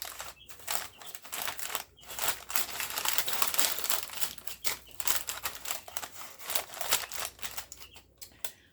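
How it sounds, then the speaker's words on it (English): Scissors trimming excess parchment paper in a home kitchen before baking, a close run of crisp snipping and crinkling paper sounds over several seconds without talking. "I will cut off the excess parchment paper."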